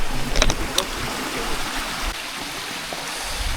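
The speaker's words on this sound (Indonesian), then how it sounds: "kita sampai di sini sumber air sungai" A mountain river stream flows near its spring on a hiking trail up Mount Lawu, a steady rushing wash with a few brief knocks and splashes near the start.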